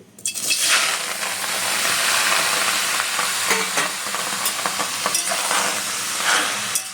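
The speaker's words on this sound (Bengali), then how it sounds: "এটা কড়াইতে দিয়ে একটু নেড়ে ভালো করে নরম করে নিয়ে শুকাই নেব" Chopped tomatoes stirred in a kadai over a stove with no oil or water, giving a steady close-up sizzle with repeated scraping strokes of the spoon throughout.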